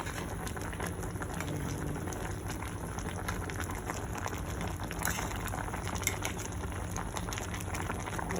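Pot of rice boiling on a gas stove, a steady close bubbling and fizzing hiss with tiny pops, unbroken and even from start to finish.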